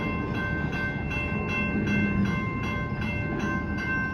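A CSX welded rail train rolls past close by, a steady mechanical rumble with rhythmic wheel clacks repeating at regular intervals and a sustained tonal whine overhead.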